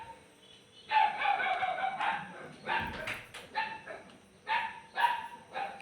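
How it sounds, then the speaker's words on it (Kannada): A dog barks repeatedly at close range, a run of loud, irregular woofs and yips spread across several seconds with no one talking over it. "ಇವಾಗಲೇ ಬೊಗಳ್ಬೇಕಾ?"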